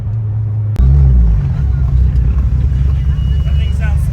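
A car engine runs loud and close, then surges sharply with a heavy low roar as the car pulls away and keeps accelerating, with a rumbling drone throughout.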